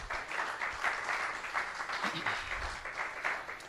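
A church congregation claps after a call to applaud God, a steady patter of moderate hands filling the room for a few seconds, with some voices mixed in.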